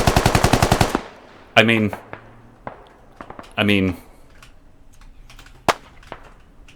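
Gunfire and a grenade in the video game Squad: a rapid burst of automatic fire, two loud blasts, and scattered single shots near and far, with brief talk.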